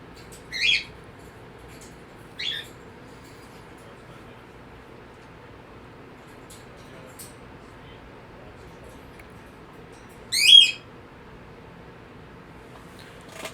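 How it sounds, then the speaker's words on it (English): Pet birds let out three short, sharp squawks near the microphone, spaced a few seconds apart over a steady low background hum. "Sorry for the birds peeking the mic."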